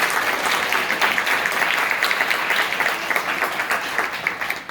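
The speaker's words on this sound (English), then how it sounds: "let's applaud." A crowd at a Howard County Board of Education candidate forum breaks into sustained applause, dense and fairly loud throughout, easing slightly toward the end.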